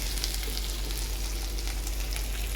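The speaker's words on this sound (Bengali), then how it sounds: "এবার একটু সর্ষে জলটা দিয়ে দেবো" Mustard water goes into a pan of sautéing pointed gourd, and a loud, steady sizzle and crackle of frying follows without a break.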